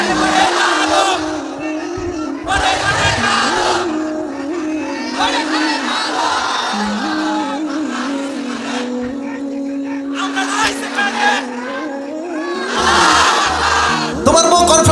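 A crowd at a religious gathering shouting takbir, repeated loud bursts of many voices calling out together, separated by pauses filled with a single voice talking, fairly close and forceful.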